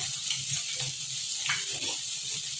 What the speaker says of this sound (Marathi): आपण हे परतून घेणार आहोत तेलामध्ये आता लसूण लसूण आलं आणि मिरची जी आहे ती व्यवस्थित परतली